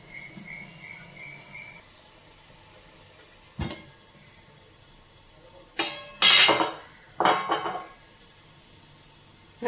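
A lid is set on a pot of ragi flour sweet cooking on the stove, giving sharp metallic clanks and rattles over a faint background hiss, close and fairly loud.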